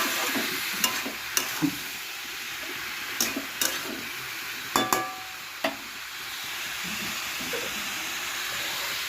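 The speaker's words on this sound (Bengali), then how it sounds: "এবার এর মধ্যে দিয়ে দিচ্ছি সেদ্ধ করা ফুলকপির ডাটা।" Boiled cauliflower stalks are tossed in a hot frying pan, giving a close, steady sizzle. Sharp metallic spatula clacks and scrapes are scattered irregularly through the first six seconds.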